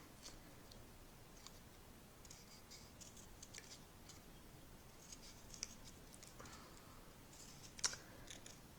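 Scissors snipping through card while cutting an aperture card, faint and close, with light irregular clicks and crisp snips scattered over quiet background.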